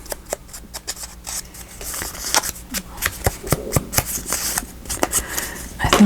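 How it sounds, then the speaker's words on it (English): Paper being torn off a file folder, a run of close, rough ripping and crackling bursts that come in uneven pulses and grow busier toward the end. "I think I'll tear it off and we'll have it roughed up"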